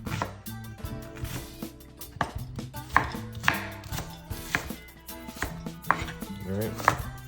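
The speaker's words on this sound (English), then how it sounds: "And this is just a regular white onion. And just chop this up." A knife chops a white onion on a board in a steady run of close, crisp knocks, about two per second, with no talking.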